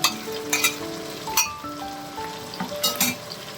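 Ginger garlic paste fries in a hot pan for an egg curry, giving a close, continuous sizzle punctuated by several clinks and scrapes of a utensil against the pan.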